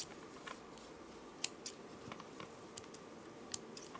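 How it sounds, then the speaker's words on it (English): Scissors snipping the cord ends of a sliding knot on a lava stone and pyrite skull bead bracelet: a few sharp, close, quiet clicks spaced irregularly, with no talking. "So I will cut the ends of my sliding knot"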